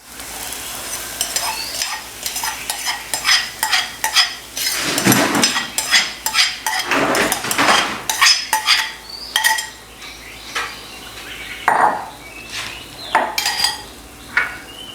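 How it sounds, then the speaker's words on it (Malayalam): An egg sizzles and fries in a hot pan greased with ghee over a low flame, with steady crackling and repeated scraping and clinking of a utensil stirring against the pan. "ഇനിയിപ്പം നമ്മുടെ ആ എഗ്ഗ് നമുക്കിതിലേക്ക് ആഡ് ചെയ്യാം."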